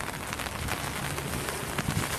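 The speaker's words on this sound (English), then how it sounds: "It's raining. It's raining." Steady rain falls on a surface in a continuous dense hiss with scattered drop patter, even and fairly loud throughout without voices.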